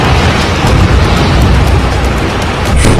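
Rocket attacks in Ashdod, Israel bring a dense, loud roar of explosions and fire, a continuous rumbling wash with no clear gaps.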